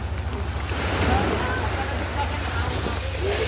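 Big ocean waves surge around a small fishing boat out at sea, a steady roaring wash of surf and wind noise filling the whole stretch, with voices faintly mixed in.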